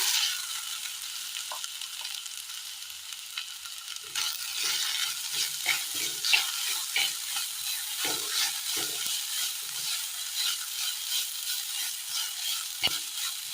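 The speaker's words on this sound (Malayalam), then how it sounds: "ഉള്ളിയുടെ കളറൊന്ന് മാറി വരുമ്പോൾ കുഴച്ചു വെച്ചിരിക്കുന്ന മാങ്ങ ഇട്ട് കൊടുക്കാം" Chopped mango mixture goes into a pan of frying onions, setting off a steady broadband sizzle with scattered stirring clinks and scrapes throughout, the frying growing louder after the addition; no talking.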